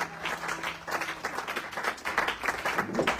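A church congregation applauds and cheers to acclaim the Lord, dense steady clapping filling the room throughout the short stretch.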